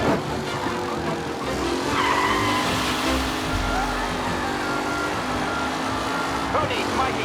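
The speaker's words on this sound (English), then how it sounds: "Aggressive driving from Angelo" A race car is driven hard in a race in Mafia Definitive Edition, its engine droning steadily while tires squeal and skid through corners, with other cars close around it.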